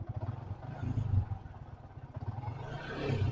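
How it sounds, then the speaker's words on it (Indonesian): A motorcycle engine due for an oil change drones with a low, steady hum as it is revved, swelling slightly near the end with no talk over it. "Mesinnya itu dengung kalau digas."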